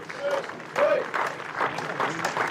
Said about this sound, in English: he's going to get very warm applause from his teammates